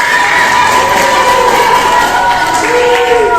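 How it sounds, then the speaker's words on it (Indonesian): A room of primary school children at a youth guidance session cheer and shout loudly together, a dense, sustained burst of young voices with a clapping crowd feel, close and continuous. "kita berikan tepuk tangan untuk Ugo"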